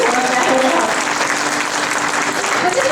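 An audience at a music tribute, a Bazm-e-Adab gathering in Atlanta, applauds in a dense, continuous wash of clapping that holds steady and fairly loud throughout.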